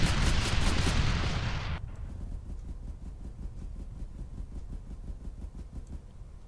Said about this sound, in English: we just took a missile and the vehicle is still in pretty good shape